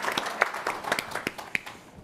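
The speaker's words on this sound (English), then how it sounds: "Yes, please give them a round of applause." A sparse scattering of claps from a summit audience for panel speakers, individual hand claps distinct and irregular rather than a full wash, moderately quiet throughout.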